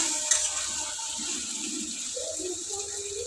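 Water poured into a pot of Sunday-special chicken curry as it cooks, a steady, close splashing gush that holds for a few seconds.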